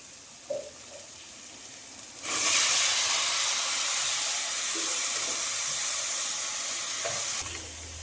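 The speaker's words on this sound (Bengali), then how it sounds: "ভাজা মশলাগুলোর মধ্যে দিয়ে দিচ্ছি আগে থেকে কেটে রাখা কুমড়োর পিস।" Pumpkin pieces dropped into hot fried spices, breaking into a sudden loud sizzle that holds steady for several seconds before cutting off.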